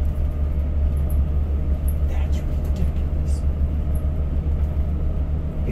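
Inside a moving RV converted from Elvis Presley's private jet: a steady, low engine and road hum runs throughout, smooth and subdued, with faint clicks and rattles above it.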